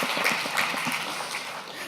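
An audience claps in a brief burst of scattered applause at a talk by artist Kara Walker, the sound moderately close and fading quickly.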